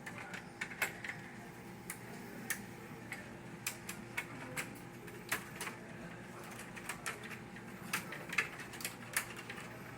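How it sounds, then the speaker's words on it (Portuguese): Screws are unscrewed while an Okidata printer is taken apart, producing quiet, irregular small clicks and ticks scattered close by over a faint background hum. "É só desparafusar aqui e remover essa fita, tá?"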